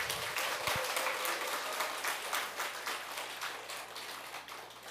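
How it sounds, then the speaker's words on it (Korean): At a Buddhist dharma gathering, a hall audience breaks into a big round of welcoming applause for a monk, sustained and dense for several seconds and tapering slightly toward the end. "저희 법정 스님을 큰 박수로 맞이해 주시기 바라겠습니다"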